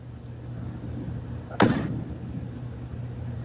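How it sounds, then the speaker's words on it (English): A single heavy thud, like a car trunk lid slammed shut, lands sharply in the middle over a steady low hum and dies away quickly. No one speaks. "it sounds like you're closing the trunk of a car"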